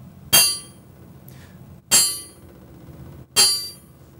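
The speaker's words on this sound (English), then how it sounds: "when I take my Allen wrench and I apply a shock input" An Allen wrench strikes a MEMS gyroscope as a shock input, making three sharp metallic clinks about one and a half seconds apart, each ringing briefly and dying away, close and clear with no talk.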